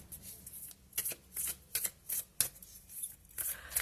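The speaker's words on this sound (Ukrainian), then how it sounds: "Хочу карти." Soft, close riffling of tarot cards being shuffled again and again in quick bursts, quiet and rhythmic with no voices.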